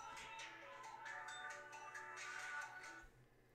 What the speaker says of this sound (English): I had a phone ringing.